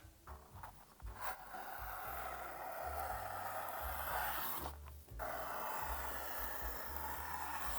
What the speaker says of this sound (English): So I'm gonna use my strap cutter. I'm gonna bring it to 1 inch, and then we'll cut some straps.